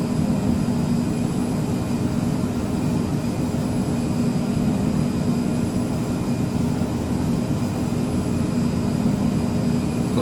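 A Cessna C510 Mustang business jet climbs just after takeoff in a flight simulator game, giving a steady, loud, unbroken engine drone with a constant whine throughout and no talk.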